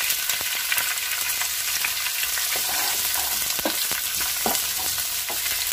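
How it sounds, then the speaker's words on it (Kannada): Onions, green chillies and curry leaves frying in hot oil, a steady close crackling sizzle with occasional stirring scrapes throughout, no voices. "ನೋಡಿ, ನಾನೀಗ ಈರುಳ್ಳಿ ಹಾಕ್ತಾ ಇದ್ದೀನಿ."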